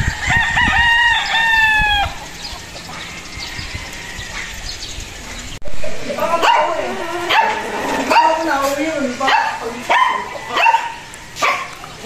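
A Golden Boy Sweater gamefowl rooster at a game farm crows loudly and close at the start, then dogs bark repeatedly nearby while someone talks.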